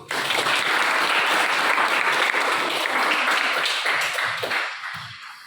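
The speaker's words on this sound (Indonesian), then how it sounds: "tepuk tangan untuk itu" Classroom audience applauds a group's presentation during a teacher-training session, a dense, loud wash of many hands clapping that holds steady for about five seconds before thinning out at the end.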